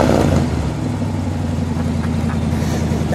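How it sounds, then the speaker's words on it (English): A 1955 Ford Thunderbird convertible with its stock 292 V8 runs loud and close, a dense rumbling engine note that holds steady for a few seconds, heard alone. "Give it a rev."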